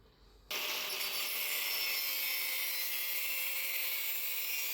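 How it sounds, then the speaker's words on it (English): A section is sawn off a steel exhaust manifold pipe during a Mazda B2200 rotary engine swap, a steady continuous rasping cut that starts abruptly after a brief quiet moment and stays loud and close throughout. "So we're cutting a little section off"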